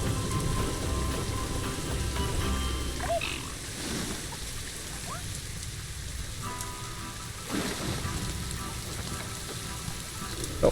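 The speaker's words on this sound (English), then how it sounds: "It's raining again like crazy." Heavy rain in the zoo-building video game Planet Zoo, a dense, steady hiss of falling drops that runs throughout at an even level, with a few faint animal calls in the background.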